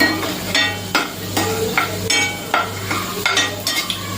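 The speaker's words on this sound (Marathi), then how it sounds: "मी शेंगदाणे इथं साईडला भाजून घेते" Peanuts roasting in hot oil in a pan for a spicy village-style brinjal bharit, with steady sizzling and repeated scraping stirs every half second or so, close and fairly loud.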